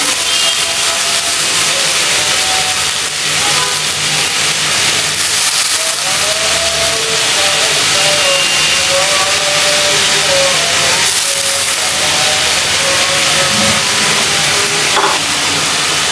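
Bitter gourd sizzles and hisses steadily as it fries in a small amount of oil, a loud continuous crackle running without pause and carrying scattered faint tonal sounds over it.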